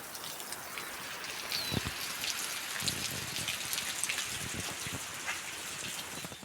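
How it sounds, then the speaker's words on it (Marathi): Steady rain pattering on surfaces, a dense close patter of drops with occasional heavier splashes, no voices. "आज बऱ्याच दिवसानंतर पहिली पावसाची सर"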